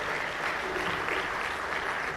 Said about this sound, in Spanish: Nuevamente les pido un aplauso para el panel.